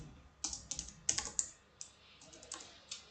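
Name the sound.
typing on a computer keyboard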